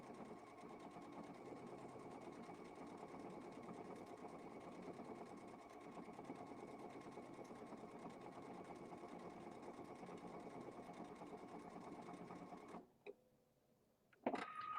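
A sewing machine embroidering lettering into quilt binding runs in a steady, fast mechanical whir for about thirteen seconds, then stops, followed by a brief quiet and a couple of small clicks.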